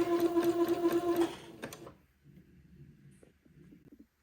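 A sewing machine zigzag stitching along a lace edge, a rapid close mechanical whirring that runs for over a second and then stops, followed by faint handling clicks.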